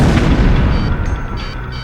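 Bombs explode in the Ace Combat Zero air-combat game, heavy booming blasts rumbling loudly and overlapping, then tapering into a rolling decay.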